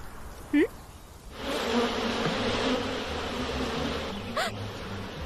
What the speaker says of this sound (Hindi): मक्खी, मधुमक्खी,